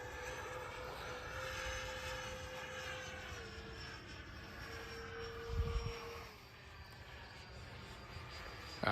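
A Freewing B-2 Spirit bomber RC model jet with twin 70mm electric ducted fans flies overhead, giving a steady whining, whooshing drone that shifts in pitch as it passes, moderately distant.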